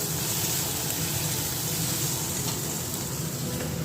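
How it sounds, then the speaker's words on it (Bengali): Egg curry with potatoes cooking in a pan, giving a continuous dense sizzle and bubbling hiss, steady and fairly close, with no talking. "ডিম রান্না হচ্ছে বন্ধুরা,"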